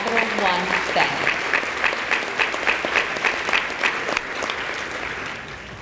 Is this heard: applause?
yes